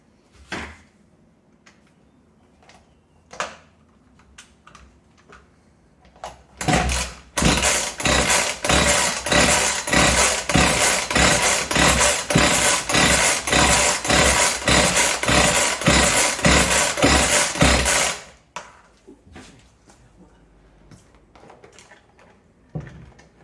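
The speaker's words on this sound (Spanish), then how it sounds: "ahora vamos a ver si le echamos un cordelazo y arranca" A Husqvarna 245R brushcutter that stalls when hot is pull-started after a few knocks and clicks. Its two-stroke engine then roars close and loud with a pulsing, uneven beat for about eleven seconds before cutting out.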